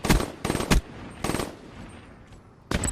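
Call of Duty gunfire in a competitive match: several loud, rapid automatic bursts in quick succession, a pause with quieter background, then another burst at the end, with no talking.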